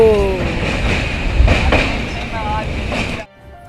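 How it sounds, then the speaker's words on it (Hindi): The Mithila Express passenger train runs on the Raxaul to Howrah route, heard with a loud, close rumble and clatter of wheels on track that fades out abruptly near the end. "तो भैया हो, वो रही अपनी मिथिला एक्सप्रेस।"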